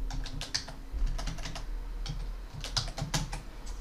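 Someone types steadily on a computer keyboard while building a mind map in Microsoft Word, producing quick clusters of close, crisp key clicks with short pauses between bursts.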